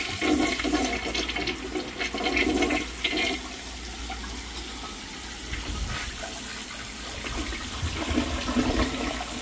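A 3.5 gallon toilet in a kids' area flushes with a loud, continuous rushing gush of water, then settles into a steady refilling hiss that carries on to the end.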